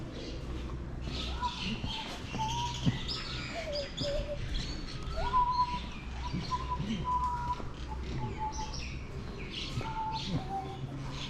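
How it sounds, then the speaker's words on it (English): Birds chirp and tweet in short calls over a quiet outdoor background in Ratchaburi, Thailand, steady and fairly faint throughout. "Birds are having a good time."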